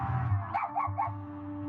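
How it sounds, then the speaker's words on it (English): A dog gives three quick yelping barks in a short burst, moderately close, over a low steady background hum. "the dog's going to bark"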